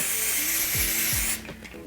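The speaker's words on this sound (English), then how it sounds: "So I take my active spray, and this is for additional holding." Aerosol hair holding spray is released in one continuous loud hiss of just over a second during a closure wig install, then cuts off, leaving faint rustling.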